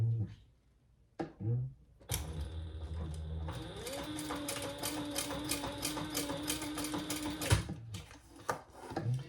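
Sewing machine stitching through vinyl for a bowler bag, running in a steady mechanical whir for several seconds with short bursts of stitching before and after.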